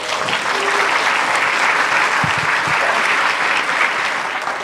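A conference crowd applauds to welcome a speaker on stage, dense continuous clapping at a steady level from start to finish with no talking.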